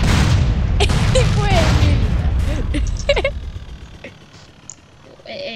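Rocket launcher fire in the MTA:SA video game, with a dense cluster of booming blasts and crackling explosions in the first three seconds, then fading to sparse pops and quieter game sound, while someone talks over it.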